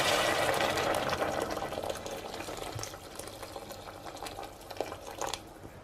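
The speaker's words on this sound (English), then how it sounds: "pouring over a litre of boiling water" A litre of boiling water pours and bubbles steadily over stock cubes, a hissy liquid rush that gradually settles, with a few small clinks near the end.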